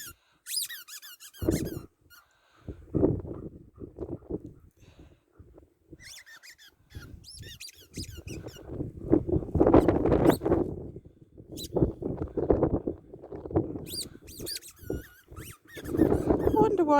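A squeaky dog toy ball is squeezed and chewed by dogs outdoors on a rainy moor, giving repeated sharp squeaks in irregular clusters, close and fairly loud, mixed with rustling and a dog's panting.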